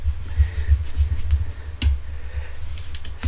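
Fingers rub and burnish a glued craft piece, making a close, fairly loud scuffing and rubbing sound in quick repeated strokes, with no talking.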